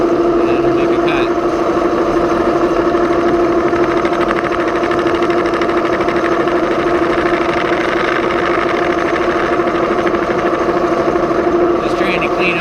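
A metal lathe turns copper at about 336 RPM, a steady droning hum with a constant tonal whine running evenly throughout, loud and near, with faint cutting noise and no clear talk.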